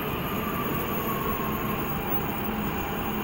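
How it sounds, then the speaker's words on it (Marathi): A Dubai metro train pulls into a station with a steady, loud, even rumble of wheels and carriage noise that holds constant throughout, with no one speaking. "दुसरी मेट्रो या ठिकाणी चालली आणि आपली मेट्रो या ठिकाणी आली."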